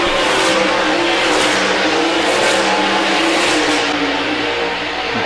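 MSTS 360 sprint cars roaring around Park Jefferson Speedway on the final lap, loud sustained engine howl with several cars passing close and pitch sweeps as they rev through the turns, no speech.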